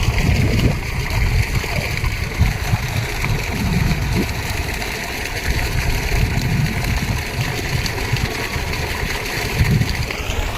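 Water pouring and gurgling steadily into a flooded rice paddy in a field, a loud continuous splashing rush close by with a faint engine hum beneath, no talking.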